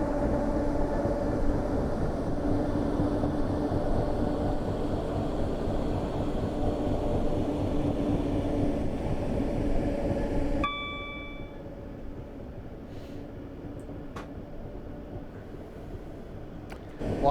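Steady rumbling drone of a train running on a Suburban Glasgow Northwest route in Train Simulator Classic, with a rhythmic beat like a flat wheel, then dropping abruptly quieter, with a ding and a few sharp clanks afterward.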